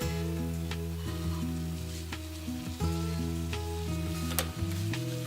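Corn kernels sizzling in butter in a hot pan, a steady bright frying hiss with occasional pops and stirring scrapes, close and alone.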